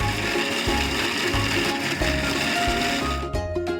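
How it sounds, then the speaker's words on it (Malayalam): A mixer grinder whirs steadily, with a rhythmic, grinding mechanical churn, as it blends a beef vindaloo masala paste containing moringa bark. It stays loud and continuous before cutting off near the end. "ഇനി നമുക്കിത് മിക്സിയിൽ നന്നായിട്ട് അടിച്ചെടുക്കാം."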